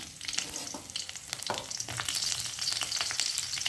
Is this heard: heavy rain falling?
no